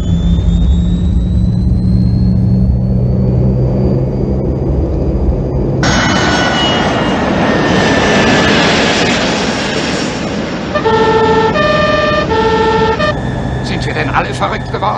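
A jet airplane lands on runway 25 with a loud, broad engine roar that surges in abruptly partway through and sustains, over an earlier whining hum, with a brief tonal beeping signal near the end.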